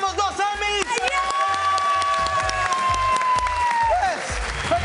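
Clapping and cheering break out in a Telemundo Deportes studio to celebrate two Emmy wins, riding under a loud music bed with sharp beats and sustained tones.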